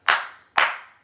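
Two sharp hand claps from children in a music class, evenly spaced about half a second apart, close and clear with no talking.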